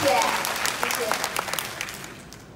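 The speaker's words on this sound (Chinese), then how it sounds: "来，大家给自己掌声鼓励。" A roomful of people applauds at a railway festival ceremony marking the 131st anniversary of Taiwan's railway, held in an auditorium. The clapping is dense and loud at first, then thins toward the end, with voices mixed in.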